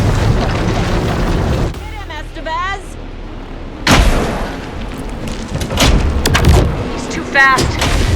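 Gunfire in the video game Alan Wake 2, loud blasts and rattling shots bursting out in several bursts amid game sound effects and a voice calling out between them.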